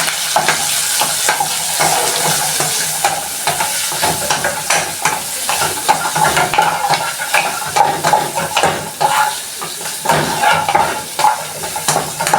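Beef and chopped spring onions sizzle steadily in a hot pan while being stirred, with scraping and clinking of the utensil over a constant frying hiss, close and moderately loud.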